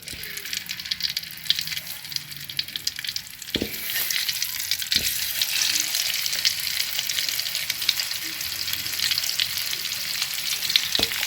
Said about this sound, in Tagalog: Ito yung ano guys, labahita. Ipiprito ko.